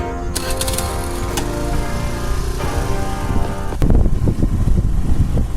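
A motorbike starts up and rides along a village road, its engine rising to a steady loud drone that grows rougher and louder near the end, with no talking.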